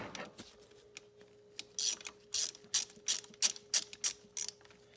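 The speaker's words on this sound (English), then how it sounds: "you have to loosen that large bolt" A ratchet loosens the large belt tensioner bolt on a 1994 Mercedes C280, giving about ten close, loud clicking pulls in a steady rhythm after a few quieter ticks, with no talking.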